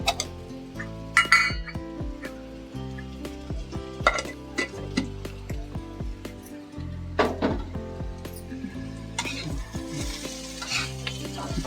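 Bitter gourd stir-fries in a pan with sugar, sizzling steadily while a utensil repeatedly scrapes and clinks against the pan in an irregular rhythm, close and clear.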